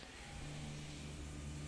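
The engine of a P4-5 Competizione race car hums steadily at Monza in the Raceroom game, a sustained mid-pitched drone holding constant throughout without voices.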